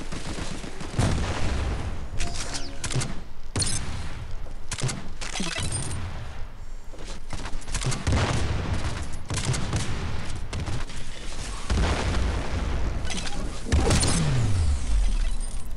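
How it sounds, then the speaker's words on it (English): A slow-firing gun in the online shooter game Armajet, with repeated loud shots and impacts spread across a dense, busy mix of game noise, with no talking. "Oh my god, this gun is garbage. The fire is way too slow."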